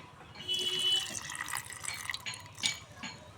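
Water poured into a chana, coconut, green chilli, ginger and salt mixture for a semolina breakfast snack, a short splashing pour with a few drips, fairly quiet and heard alone.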